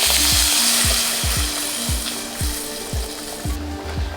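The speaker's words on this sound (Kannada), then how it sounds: "ಒಗ್ಗರಣೆ ಸಾಂಬಾರ್ಗೆ ಹಾಕ್ತಾಯಿದ್ದೀನಿ." Loud hot-oil sizzle and crackle of a curry-leaf tempering poured into ash gourd sambar, fading gradually, with a series of repeated low rhythmic thumps underneath.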